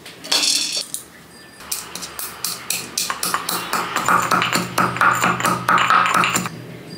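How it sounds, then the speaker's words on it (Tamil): Whole spices pounded in a stone mortar: repeated sharp clinks and taps, loud and close, in a steady irregular rhythm of hard pounding, with no talking. "இத அம்மியில போட்டு இடிச்சிக்கலாம்."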